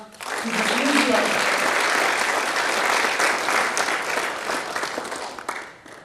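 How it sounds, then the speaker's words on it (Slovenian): Sustained applause from a crowd at a volunteers' reception for the International Day of Persons with Disabilities, steady and loud for several seconds before tapering off at the end. "Še en aplavz."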